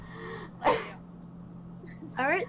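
A person sneezes, a sharp burst near the start followed by a second voiced sneeze-like exclamation near the end, close and fairly loud over a steady low hum.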